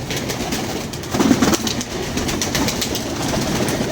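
Pigeons cooing softly near the mic, with a steady low rumble that sounds like a passing train underneath.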